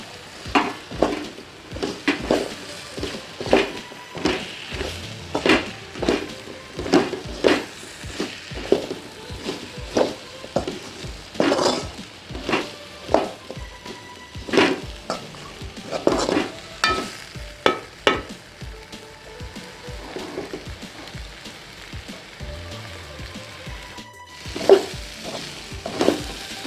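Drumstick pieces are sautéed in masala in a pan. A spoon scrapes and knocks against the pan in an irregular rhythm over a steady, soft sizzle, and there is no talk.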